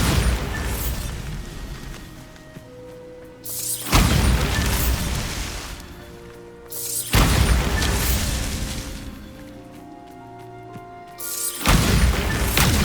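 Repeated Bombarda spell explosions from Hogwarts Legacy, three big booming blasts spaced a few seconds apart, each with a loud attack that fades into rumbling debris and tonal in-game music.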